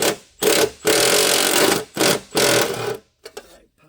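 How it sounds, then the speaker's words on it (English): A Snap-on electric ratchet runs in several loud, close buzzing bursts of varying length with brief stops between, then a couple of short clicks as it finishes. "And my snap-on electric ratchets."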